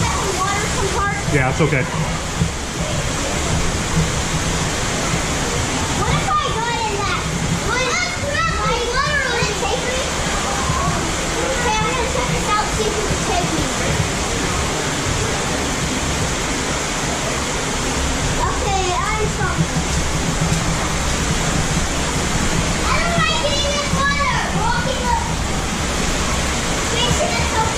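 An underground waterfall inside Eden Cave at Buffalo National River roars as a constant broad wash of falling water, echoing in the cave while adults and children talk and call out over it.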